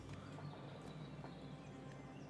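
A horse trots through the world of the video game Oblivion Remastered, its hooves clip-clopping faintly and unevenly over a quiet, low ambient background.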